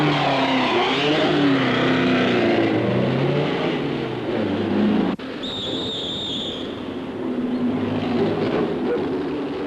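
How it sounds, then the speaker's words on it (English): Autobianchi rally car of the German Kleber team on the 1972 Monte-Carlo Rally, its engine revving hard and loud on a mountain road, pitch rising and falling as it drives past, with a brief high squeal midway. "Car 91 is an Auto Bianchi of the German Kleber team"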